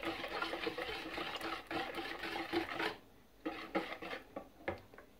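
A spoon stirs salt into cocoa-and-coffee zebra crinkle cookie dough in a bowl, giving quiet scraping and clinking strokes, steady at first, then broken into separate scrapes.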